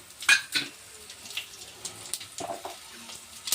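Dry red chillies frying in hot oil for a tempering, a soft crackling sizzle with a few sharp pops and clinks near the start, fairly close and alone.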